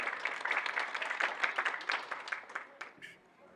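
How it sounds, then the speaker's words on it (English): Audience applause at a film and TV conference panel, a moderate crowd clapping briskly that thins out and fades toward the end. "A round of applause for yourselves."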